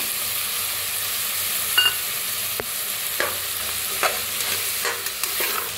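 Masale bhat ingredients, including grains and peas, being roasted and stirred in a pan: a steady frying hiss runs throughout, broken by light intermittent spoon scrapes, close and even, with no voices.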